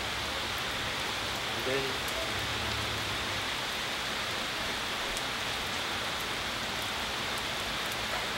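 Monsoon rain falling steadily, a dense even patter of drops on surfaces throughout, close and continuous, with a brief word of speech under it.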